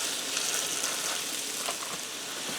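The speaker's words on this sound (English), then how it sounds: "I'm going to allow these to fry for a few minutes" Onion smashed burgers frying in a skillet, pressed thin into onions, giving a steady close hiss and sizzle with faint pops and crackles throughout.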